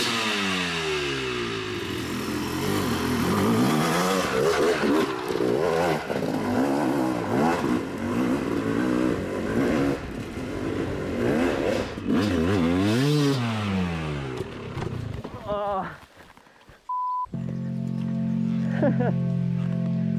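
A Yamaha YZ dirt bike is ridden over bumpy terrain, its engine loud and near, revving up and down in irregular surges. The engine then cuts off abruptly and a steady, lower drone follows.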